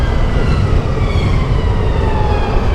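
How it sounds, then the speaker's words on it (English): An ambulance siren wails past on a Bradford street, loud and close above a dense rumble of traffic, its rising and falling tone held throughout without any speech. "Just let this ambulance past."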